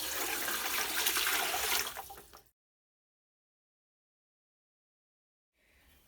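Water pours steadily and fairly loudly into a pressure canner for a couple of seconds, then stops abruptly, followed by near silence and a faint clink at the end.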